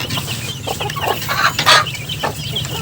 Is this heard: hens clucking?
yes